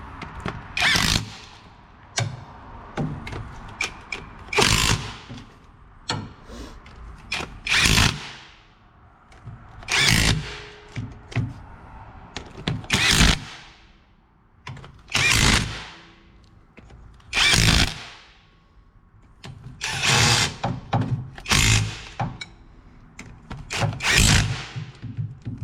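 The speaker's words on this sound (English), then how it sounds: "we're going to come in here with my little 1/4 inch impact, my little guy, and we're going to start putting this down in a crisscross fashion" A small 1/4-inch impact wrench runs down differential cover bolts on a Ford Explorer rear axle in a crisscross order, about a dozen loud, close bursts of rapid hammering, each a second or two long, separated by brief pauses.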